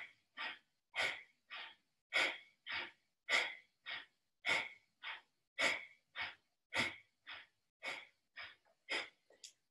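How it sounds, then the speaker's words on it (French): Deep, rhythmic breathing during a guided breathing exercise, with quick forceful breaths repeating steadily about twice a second, close and clear, and no other sound. "Et on va commencer à respirer."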